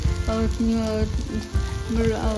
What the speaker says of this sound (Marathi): मंद गॅसवर तळून घ्यायच्या या तळलेल्या मिरच्यासुद्धा खायला खूप छान लागतात